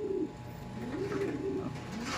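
Racing pigeons at a loft coo in a repeated low rolling rhythm, several soft throaty coos close by over a quiet background.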